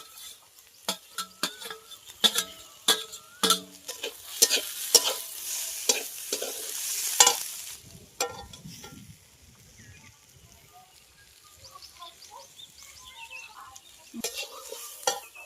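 Taro sizzles in a pan while a spoon scrapes and knocks in quick, loud stirring strokes. The stirring then eases into a quieter, steady fry.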